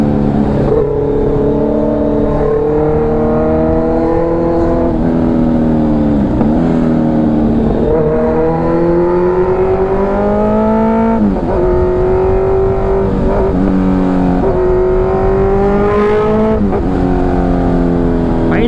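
A loud Kawasaki Ninja H2R exhaust revs up and down repeatedly, with a throaty rising and falling engine note and popping crackles that never lets up.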